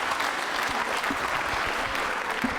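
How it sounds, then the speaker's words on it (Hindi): An audience of trainee state civil service officers at a quiz show claps steadily together, a dense, even burst of applause filling a hall. "पंकज सिंह जी के लिए तालियां जोरों से बजाइए"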